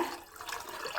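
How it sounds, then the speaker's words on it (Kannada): A glass of water poured into a cooking pot over a tempering of curry leaves and cooked dal, a steady broadband splashing and gushing lasting about a second at moderate loudness. "ಒಂದು ಲೋಟ ನೀರು ಹಾಕಿದ್ದೀನಿ"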